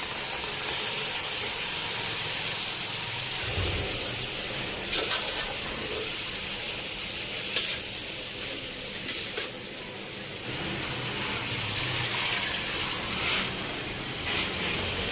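Water poured into a pot of rice with spices, salt and boiled chickpeas while making chana pulao, a steady hissing gush that runs without a break.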